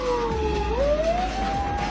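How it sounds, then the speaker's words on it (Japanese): A police car siren wailing as the patrol car goes straight ahead through a narrow shopping street in pursuit, one rising and sustained tone, moderately close, with no voices. "直進します。パトカー直進します。"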